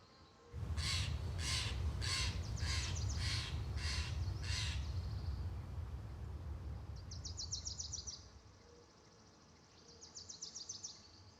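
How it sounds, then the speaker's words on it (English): A single crow caws in a rhythmic series of about six harsh calls, drenched in reverb and delay, over a low buzzing insect-like drone, followed by fainter echoing bird calls later. "added a single crow panned to the right"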